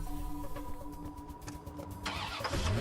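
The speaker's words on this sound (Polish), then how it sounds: "To jedziemy sobie autkiem." A car engine cranks and catches in the Watch_Dogs video game, a short mechanical start rising into a running engine at the end, faint and close, with no talking.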